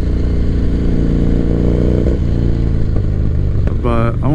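A 1985 Harley-Davidson FXR motorcycle engine rumbles steadily while cruising, a loud, continuous low throb with a slight shift in pitch near the end and wind-like noise on top.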